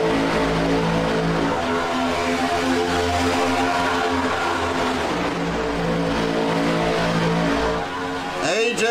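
Race cars in a lead pack, the 75 car among them, scream past with high, strained engine notes layered over one another. The roar swells and holds, then one car rips by close at the end.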